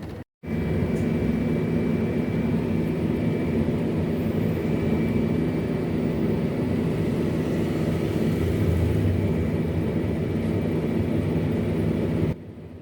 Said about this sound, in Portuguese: aqui ouvimos apenas um assovio grave e bastante característico durante as arrancadas